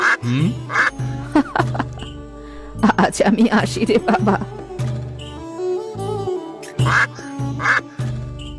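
A cartoon swan gives repeated nasal honks and quacks in short bursts, mixed with a voice speaking and music in the background.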